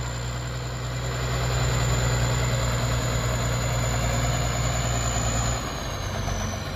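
A Ford 7840 tractor, 115 horsepower, idling outdoors, a steady low diesel rumble with a constant droning hum, close and even, then dropping slightly in pitch near the end as the engine note changes.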